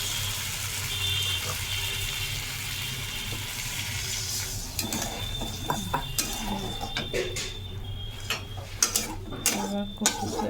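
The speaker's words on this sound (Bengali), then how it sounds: "এবার জল দিয়ে দেব" Water goes into a pan of fried taro in oil, giving a sizzling, bubbling wash with scattered clinks and scrapes of utensils against the pan, fairly close and continuous.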